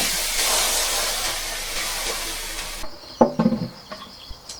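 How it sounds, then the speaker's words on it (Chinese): Fish bones drop into hot chili bean paste oil with a loud, steady sizzle and hiss, cut off sharply as water goes in, followed by a few close clatters and bubbling pops. "下入鱼骨，加入适量清水。"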